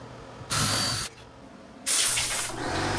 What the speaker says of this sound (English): Here I'm setting them up to spray a finish on them.